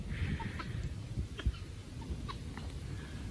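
Chickens and a rooster cluck softly in a farmyard, scattered short calls rising over a low background murmur, fairly quiet and at a moderate distance with no talking.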